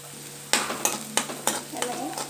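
Carrots are stir-fried in a pan for veg momos manchurian: quiet hot oil, then a run of rhythmic spatula scrapes and tosses, each with a burst of sizzle, about five or six strokes in quick succession.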